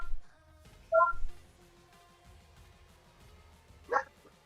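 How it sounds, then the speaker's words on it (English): A dog gives a single short bark, faint and somewhat distant, over a quiet room tone with a few faint tonal beeps earlier. "Yeah, I heard your dog bark."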